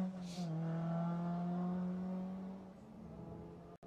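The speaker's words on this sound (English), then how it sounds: "The Lotus Sunbeam, car 49." Lotus Sunbeam rally car number 49 on a rally stage in Jersey drives past with a sustained engine drone that fades away, with a faint voice in the background.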